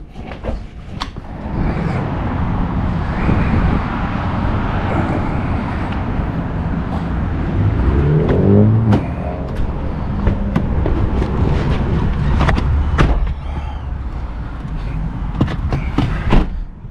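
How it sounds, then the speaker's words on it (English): Steady wind and road roar from riding in an older car with the windows down, its air conditioning broken and power steering fluid faulty; loud, continuous rushing noise with occasional knocks and rattles. "Right now we're riding in the car like it's 1950s, you know. We got the windows down."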